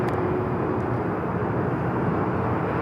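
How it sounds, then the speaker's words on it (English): A Japan Airlines Airbus A350-1000 jet moving on the ground at LAX gives off a steady, continuous broadband roar that holds at an even level throughout, with no voices. "That Japan Airlines A350 1000 on the move."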